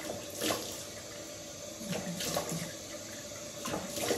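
Tap water runs into a sink while shaving soap is rinsed off the face, a steady close splashing stream broken by a few louder splashes of hands scooping water, with no talk.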